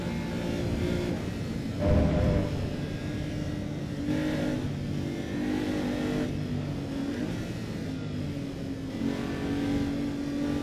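A sports car engine in the racing game Assetto Corsa EVO revs repeatedly, rising and falling in pitch, loud and close, with a steady synthetic quality and no voices.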